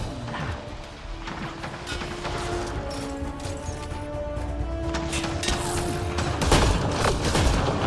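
Sustained gunfire in the sci-fi video game Mass Effect: Andromeda, dense rattling shots over a steady combat din with tonal game sound, growing louder with heavier bursts near the end.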